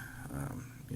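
A small dog makes a low, moaning, moose-like vocal sound in the background, brief and moderately close, layered with soft room noise.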